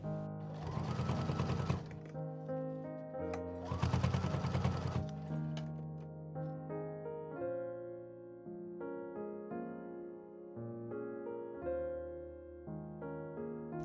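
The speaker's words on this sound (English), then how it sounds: "For the handles, fold them in half lengthwise and sew." A sewing machine stitches folded fabric bag handles in two short, fast runs, each a couple of seconds long, over soft background music that continues alone afterward.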